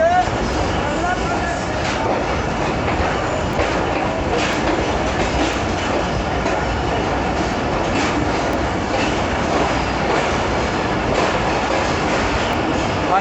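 Jaffar Express passenger train rolling at speed toward Khanewal station, a loud steady rumble with rhythmic wheel clicks and faint squeals heard from on board, with low voices mixed in.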